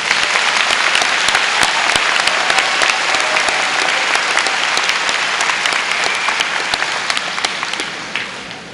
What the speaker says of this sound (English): Please give a round of applause for the Ayden-Grifton High School faculty.